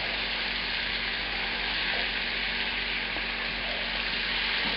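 Mushrooms fry in a hot pan for chicken marsala, giving a steady, even sizzle close by with faint scrapes and pops underneath, no voices.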